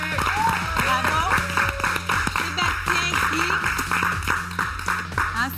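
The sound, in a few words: applause for Sébastien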